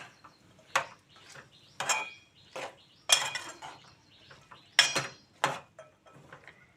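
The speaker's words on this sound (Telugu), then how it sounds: "బాగా కలిపేయాలండి చిక్కుడుకాయలు ముక్కలు వేసాను కదా" A utensil stirs chopped flat beans in a cooking pan for a bean and tomato dish, making a series of sharp metallic clinks and scrapes against the pan, about eight distinct knocks spaced irregularly and heard up close.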